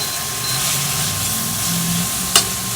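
Zucchini noodles cooking in a pan give a steady, loud sizzle and hiss throughout, with a brief sharp scrape of a utensil near the end.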